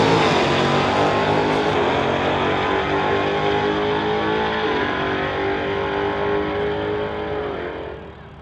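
Cars launch and accelerate hard down a drag strip in a street-legal race against a Corvette, the loud, layered engine roar climbing in pitch and then fading away over the last seconds, with no talk.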